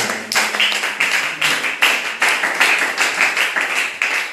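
A church congregation claps in steady rhythm, a dense, even run of hand claps at roughly two per second continuing throughout, fairly close and with no speech over it.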